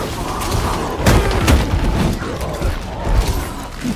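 Heavy booms and thuds from bombs detonating during a Guardians of the Galaxy battle on PS5, with two strong blasts close together amid a dense, rumbling wash of combat noise.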